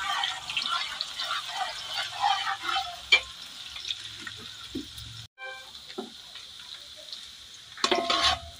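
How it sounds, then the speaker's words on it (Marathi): Onions fry in oil in a pan as the base for a thin dry fish curry, giving a moderate sizzle with occasional stirring knocks, a brief gap and a louder burst near the end. "कांदा चांगला तेलात घ्यायचा, लाल करून घ्यायचं जरा."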